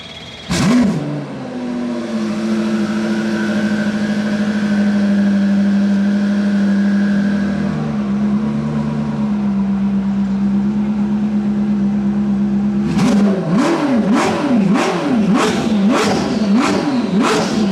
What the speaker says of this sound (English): I think you want to hear what the car sounds like.